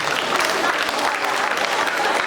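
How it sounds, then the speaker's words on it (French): Audience applause at a school ceremony consecrating peace ambassadors, dense and fairly loud clapping from a crowd close by, continuous and even throughout the short burst. "Si on peut applaudir."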